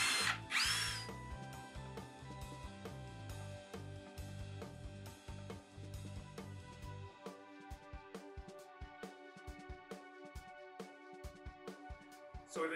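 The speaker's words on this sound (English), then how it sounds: "we can go ahead and start screwing it to the wall" A power drill drives screws through a wall bracket into a plywood wall, first in one long steady whir, then in a string of shorter bursts with clicks and knocks, close and fairly loud.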